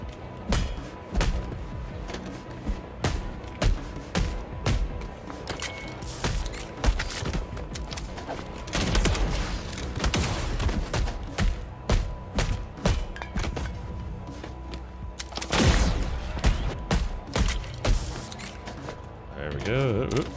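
In the video game Replaced, gunshots go off as sharp, moderately loud bursts scattered irregularly among thumps and mechanical clatter, with a person talking over much of it.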